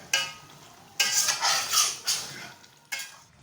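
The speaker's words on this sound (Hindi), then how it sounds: "इसको अच्छी तरह मिक्स करेंगे।" A spoon stirs black pepper into chicken karahi in a pot, giving a few scraping, clattering strokes against the metal in quick bursts, close and fairly loud with no talking.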